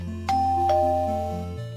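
A two-tone ding-dong doorbell chimes in a Five Nights at Freddy's style video game, pressed twice in quick succession, loud and close over a steady synthetic background tone with no talk.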